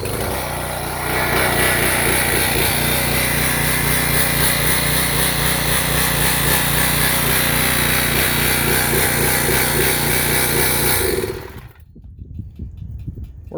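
A Predator engine fitted to a push mower catches and runs loud and close, a rough buzzing roar that holds steady for about ten seconds, then cuts off abruptly into near quiet.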